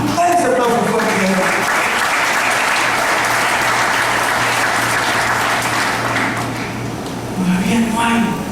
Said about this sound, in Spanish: Dale ese aplauso fuerte.